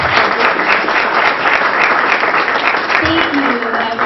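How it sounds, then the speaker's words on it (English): A spiritual event audience gives steady, dense applause, with many hands clapping together in a continuous wash at close, full volume. "Let's give a big round of applause for Lightstar."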